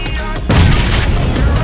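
A grenade bursts with a heavy boom in a PUBG Mobile match, a sudden low blast that swells and lingers under talk.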